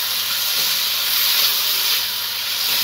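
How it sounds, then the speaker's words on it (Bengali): Banana blossom dropped into hot spiced oil in a pan, giving a loud, steady sizzling hiss that holds evenly throughout with no talking. "এবার আমি এর মধ্যে মোচাটা দিয়ে দিলাম।"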